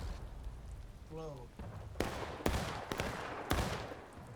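Long-distance musket fire in War of Rights: four or five sharp reports spaced about half a second to a second apart, dry and fairly distant, over a faint battlefield murmur with a brief voice.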